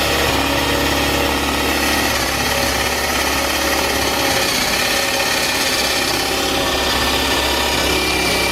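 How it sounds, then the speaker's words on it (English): A power drill boring a hole during a transmission cooler install on a C6 Corvette, a loud continuous whirring grind that runs steadily for several seconds with no talk. "I just drilled the hole through."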